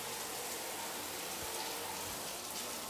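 Shower water runs in a hotel bathroom, a dense, even rushing hiss of spray that holds constant and fairly close throughout without pauses or voices.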